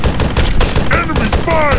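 Rapid gunfire crackles through an Arma 3 firefight, sharp shots in quick succession, close and loud over a dense battle din, with shouted voices mixed in.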